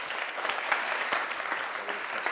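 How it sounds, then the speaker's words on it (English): Steady audience applause for a speaker at a university talk, a dense, even patter of many hands clapping throughout without pause. "a round of applause, please,"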